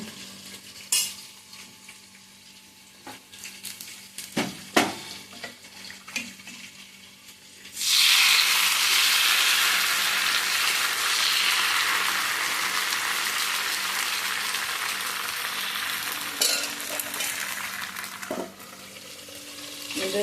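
Masala frying in a pan for Udupi-style chicken curry: scattered clinks and quiet kitchen handling at first, then a loud, steady hiss of sizzling oil takes over and continues for the rest.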